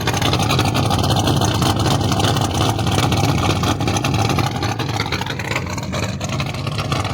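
A 1955 Ford hotrod engine with a new exhaust pipe runs with the choke pulled slightly, a loud, steady, close rumbling drone that holds its pitch throughout.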